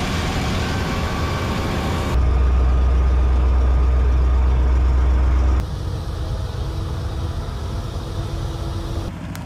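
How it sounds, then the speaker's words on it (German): A vehicle engine in southern Laos hot-wired by shorting two wires, running with a steady rumble that jumps to a deep, loud idle for a few seconds, then drops back to a lower, even drone. "Durch Kurzschließen zweier Kabel wird anschließend der Motor gestartet und schon kann es losgehen."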